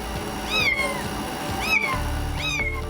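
A kitten trapped behind a wall meows three times at a steady pace, the cries somewhat muffled and distant through the wall.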